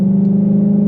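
A 2022 Ford Shelby GT500 engine holds a loud, steady, close-up drone at a sustained rev, with no voices over it.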